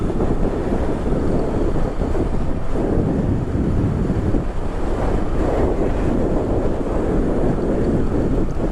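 Strong wind roars and buffets against the microphone throughout a motorcycle ride toward Calawis and Marilaque, a loud continuous rush with no other clear sounds.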